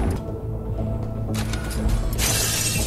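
A glass window shatters as a beacon is thrown through it in The Last Worker, a bright crashing burst near the end that follows soft mechanical creaks and clanks.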